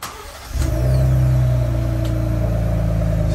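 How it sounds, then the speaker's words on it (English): A Ford Bronco two-door with its factory exhaust fires up after a brief quiet moment, then idles and revs in a loud, steady engine rumble heard up close. "So there's the factory exhaust."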